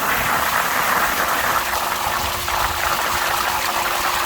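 A VEVOR sand filter pump runs steadily while backwashing, with a loud continuous rush of gushing water and a faint motor hum underneath.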